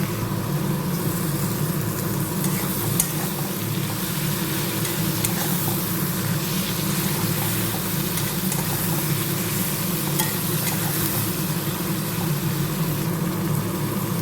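Tomato tossed in with softened onions, frying and being stirred in a pan, gives a steady, dense sizzle that holds at an even level throughout, with no talking.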